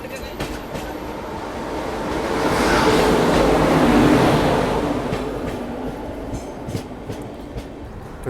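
The Mahakoshal Express at Mathura in India gives off a broad rumble of rolling rail cars that swells to a peak mid-way and then eases back, heard from nearby on a train.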